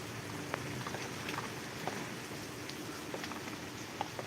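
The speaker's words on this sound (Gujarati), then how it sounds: "અત્યારે અમારે તો અહીંયા વરસાદ આજે ભૂકા બોલાવી દીધા છે અને જોરદાર વરસાદ વરસી રહ્યો છે" Heavy rain comes down in Mangadh village, Gujarat, a soft, steady hiss of falling water heard from a little distance, with scattered faint drips and taps over it.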